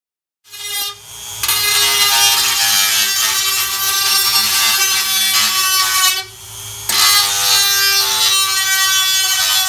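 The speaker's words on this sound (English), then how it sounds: "Step 2, sand the hole with the Dremel." A loud high-pitched Dremel rotary tool grinds continuously while sanding a hole in a block, briefly pausing once before resuming its steady whine.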